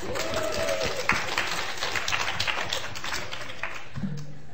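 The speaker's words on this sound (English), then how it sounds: "Round of applause." A round of applause from a modest crowd, steady clapping for a few seconds that thins out toward the end.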